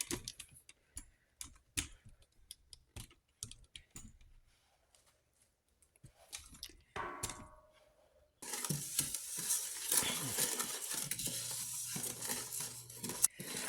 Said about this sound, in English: So let me keep stirring.